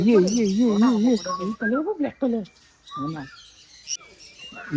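Birds chirp and call in an aviary at Sidkeong Tulku Bird Park in Sikkim, sharp tweets mixed with warbling, wavering calls, with people's voices nearby.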